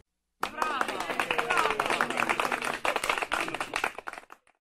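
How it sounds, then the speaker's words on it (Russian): Brisk studio applause breaks out abruptly, many hands clapping steadily for about four seconds before thinning to a few last claps and stopping. "но сначала поаплодируем этому городу"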